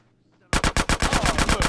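Rapid gunfire in GTA San Andreas: a loud burst of about a dozen evenly spaced shots after a brief quiet start, close and sharp.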